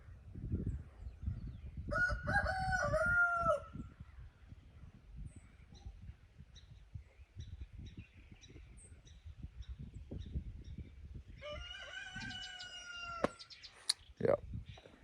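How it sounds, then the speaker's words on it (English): Two roosters crow in turn, one early and one near the end, fairly close, with rustling and shuffling noise in between. "Look, dueling roosters."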